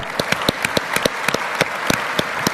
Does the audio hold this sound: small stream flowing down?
no